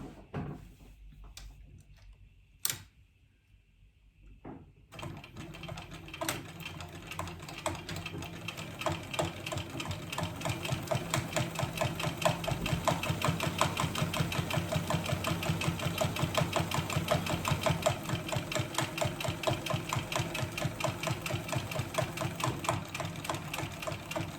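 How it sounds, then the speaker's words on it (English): A sewing machine top-stitches a crossbody bag panel, starting after a few quiet seconds with a couple of soft knocks, then running in a steady, fast, close rhythmic whirr of stitches that carries on to the end. "for now we're just going to top stitch this bit"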